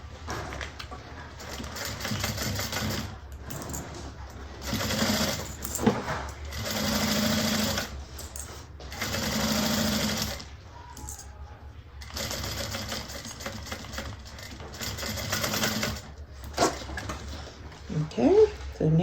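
A sewing machine stitches fabric for a handbag in bursts of steady whirring, pausing briefly between runs, up close and loud.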